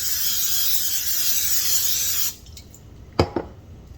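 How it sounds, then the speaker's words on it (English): Nonstick cooking spray hissing onto a pan, one continuous close spray of about two seconds, then a few light clicks and taps. "I'm gonna go ahead and hit this with some nonstick"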